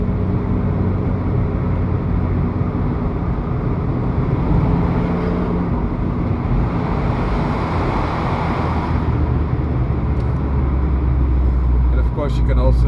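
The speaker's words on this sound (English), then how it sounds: "Downshifting." Steady, close engine and road noise from an Abarth 595C Turismo, with the engine note shifting as it downshifts; no talking is heard.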